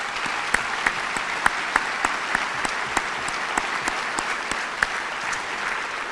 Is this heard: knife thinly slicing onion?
no